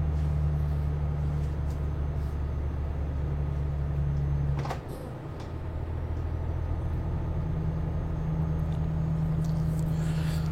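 A truck engine in a truck simulator video game drones steadily and loudly throughout, with a brief dip near the middle before the low rumble settles back in.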